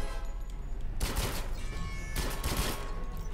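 Gunfire in the video game 007 Legends: two dense bursts of rapid shots over a steady game background, loud and close, with no voices.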